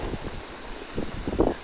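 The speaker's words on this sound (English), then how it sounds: "It's getting a bit windy." Wind gusts through an avocado orchard, a short rough buffeting rush with rustling and microphone wind noise, fairly loud and close, no voices.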